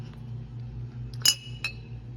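Old glass bottles, a former glass water bottle among them, clink together in two quick, bright taps over a low steady background hum, with no talking.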